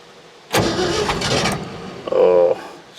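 1959 Ford F250 4x4 with a 352 V8 cranking: a loud burst of starter grinding and churning for about a second, a brief pause, then another rough cranking attempt, close to the microphone.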